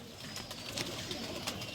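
A pigeon coos softly on a rooftop in repeated low murmuring calls, faint and fairly distant against a steady background hiss.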